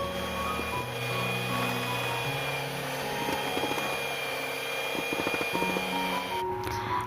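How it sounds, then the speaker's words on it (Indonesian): An electric mixer running at its lowest speed through putu ayu cake batter, giving a steady whirring drone with faint rhythmic clicking, continuous and close, with no talk. "Untuk mencampurnya ini saya gunakan mixer ya teman-teman agar lebih cepat. Saya gunakan speed paling rendah."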